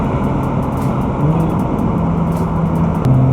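A Jaguar F-Type S drives with a deep, continuous engine note that shifts pitch slightly as the revs change, heard steadily from the cabin with no talking.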